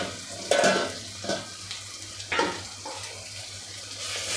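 Rayalaseema egg fry being stirred in a pan, a few scraping strokes at an uneven pace over a soft, steady sizzle, fairly close with no one talking.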